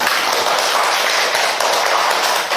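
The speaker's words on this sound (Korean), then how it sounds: "박수로 맞아주세요." An audience at a monthly lecture meeting of a mental science research society welcomes a professor with applause, a loud, dense, even wash of clapping hands heard throughout with no talking.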